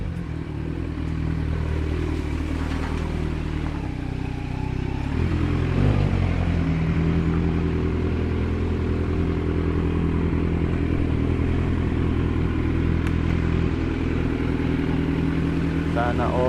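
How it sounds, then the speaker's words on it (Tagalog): A big bike motorcycle ridden on MacArthur road, its steady engine drone running throughout with traffic clatter and a brief rev near the middle, under continuous talk. "Sana all naka big bike."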